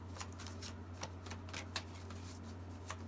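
Tarot cards being shuffled and drawn, a soft rapid riffling with scattered crisp flicks over a low steady hum, close and fairly quiet.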